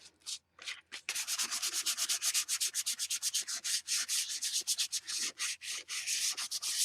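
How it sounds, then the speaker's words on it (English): A cardboard journal cover is lightly sanded by hand in quick back-and-forth strokes, making a steady rhythmic scratchy rasp that is close and fairly quiet. "So you just give it a light sand."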